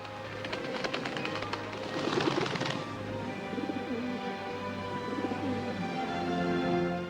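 A dove coos softly in repeated low, rounded calls over a quiet background, with a brief brighter flutter near the start.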